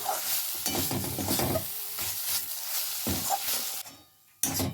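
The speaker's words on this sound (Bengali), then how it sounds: "ঝিঙে খোলা বাটাটা আর একটু ভাজা ভাজা হবে।" Ridge gourd peel paste fries in a pan with turmeric and salt, heard as repeated close stirring scrapes over a soft sizzle that drops away briefly near the end before a final stir.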